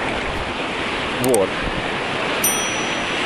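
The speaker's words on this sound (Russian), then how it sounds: "Волны, конечно, очень сильные." Strong sea waves at a beach in Antalya, Turkey, a loud continuous roar of surf mixed with wind buffeting the microphone, with a brief spoken word partway through.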